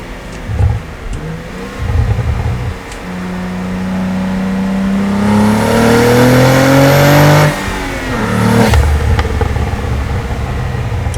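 A Cadillac CT4-V Blackwing's engine and exhaust pull hard in third gear toward redline, a loud rising roar with climbing harmonics that swells for several seconds, then drops sharply at the shift and settles back to a steady drone.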